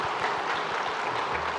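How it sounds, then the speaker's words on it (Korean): Church congregation clapping together to welcome visiting guests during a Sunday worship service, a steady dense wash of applause throughout. "잠깐 자리에 일어나 인사하실 때 우리 박수로 환영하도록 하겠습니다"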